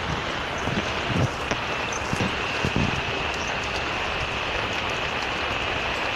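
Steady rain patters down outdoors in Maceió, Brazil, a constant hiss of drops with a few soft thumps and no talking.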